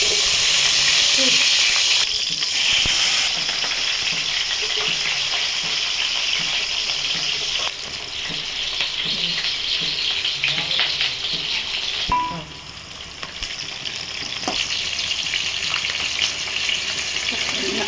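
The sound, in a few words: tempering spices frying in a kadai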